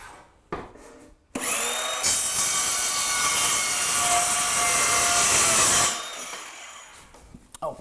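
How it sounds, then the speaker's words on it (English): A small circular saw rips through a click-fit laminate flooring board, spinning up with a sharp whine, holding a loud, steady cut for about four seconds, then spinning down, with a few clicks and knocks around it. "Now I'm going to use a small circular saw."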